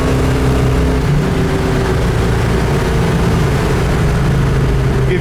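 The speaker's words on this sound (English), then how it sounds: "This thing's very fast. Went through the gears there, first, second, third" Rare numbers-matching 1970 Ford 429 Cobra V8 pulling hard through the gears, a loud, close, continuous low engine roar that holds strong throughout with a slight dip near the middle.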